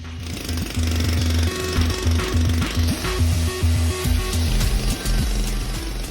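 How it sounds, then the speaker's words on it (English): An electric demolition hammer, a 2200W VEVOR jackhammer, pounds thick, 35-year-old concrete in rapid, continuous bursts, loud and close, with a heavy rattling drone. "demoing it all out with this demolition hammer"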